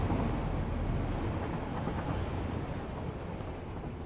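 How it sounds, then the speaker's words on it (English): A train in a video game rumbles past at close range, a dense continuous roar of wheels and carriages with faint high squeals, loud and steady before slowly easing off. "I almost got run over by a train."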